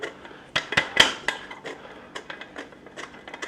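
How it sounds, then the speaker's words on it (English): Flour for snickerdoodle cookies is sifted with a metal sifter, giving a close run of light rattling taps and clinks, some sharper knocks among softer rhythmic shaking. "I just sift this out."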